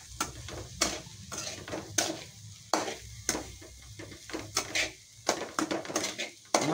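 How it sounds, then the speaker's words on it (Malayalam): Macaroni being stirred through masala gravy in a pan, a spoon scraping in quick, irregular strokes over a soft sizzle, close and fairly loud with no voices. "ഗ്രേവി ആയിട്ട് ഞാൻ നന്നായിട്ട് മിക്സ് ചെയ്ത് കൊടുക്കുക."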